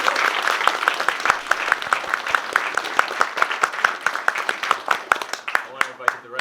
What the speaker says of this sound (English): Let's give one more round of applause to this,